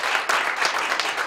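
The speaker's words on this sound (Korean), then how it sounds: "우리 박수 한번 보내주세요" Brief burst of audience applause at a hotel gathering, a dense wash of many hands clapping fairly close and steady for just over a second, with no voices over it.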